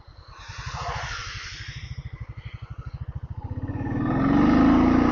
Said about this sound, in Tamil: இங்கே பார்த்தீங்களா, ஸ்பீட் பிக்கப் பார்த்தீங்களா, சர்ன்னு எடுக்கும் வண்டி